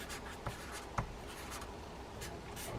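A pen or pencil scratches briefly on paper up close, jotting down a number with a couple of soft taps; quiet room, no voices.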